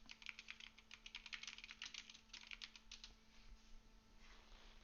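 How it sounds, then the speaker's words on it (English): Fast, forceful typing on a computer keyboard, a dense run of sharp clacking keystrokes that thins out toward the end, fairly faint and close with no talk over it. "It's smashing on the keyboard."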